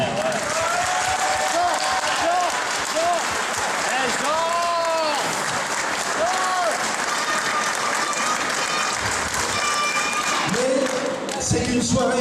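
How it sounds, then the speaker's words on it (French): Audience applause at an evening celebration at the Château des Vaux, dense steady clapping with scattered cheers filling the room throughout, close and loud, with a few brief voices near the end. "ça mérite bien vos applaudissements."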